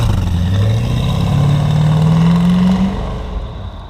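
A Porsche with flip-up headlights revving as gas is given: a loud, close engine roar climbing steadily in pitch for a few seconds, then easing off.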